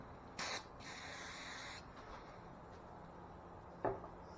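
Brake cleaner is sprayed from an aerosol can in two short bursts, a longer hiss followed by a short pause and a second brief spray, fairly faint with no talking.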